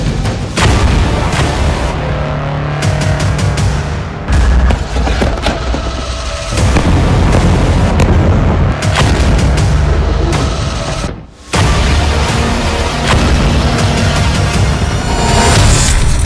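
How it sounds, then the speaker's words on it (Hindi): Israeli army artillery fires in the Israel-Hamas war, loud booming blasts going off one after another over a dense, rumbling roar, with a brief lull before the barrage resumes. "इजराइल की सेना अधिक से अधिक तोपों का इस्तेमाल कर रही है"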